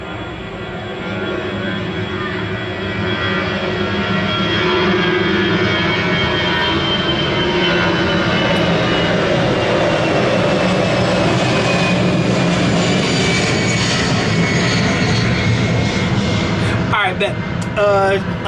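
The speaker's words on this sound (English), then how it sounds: "I'm near the airport, guys, so that's why the plane's going back and forth" An airplane flying low near an airport, a loud sustained engine roar that swells early and holds steady, with faint clicks and a brief sharp sound near the end; no clear voices over it.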